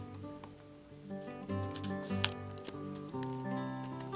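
A blade slices through a dried miniature white yogurt roll made of clay, giving short crisp snipping cuts over a quiet background, with faint tonal hum beneath.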